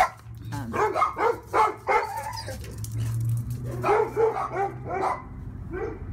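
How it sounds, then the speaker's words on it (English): Several dogs bark repeatedly in close, loud bursts, with yips and whines mixed in and a low hum underneath. "So my dogs are going nuts."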